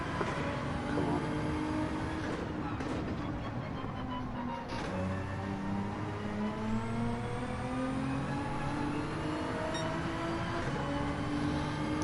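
Nissan car engine revving and changing gears through a Daytona time trial in a racing video game, a steady loud engine whine rising and falling in pitch throughout with no talk.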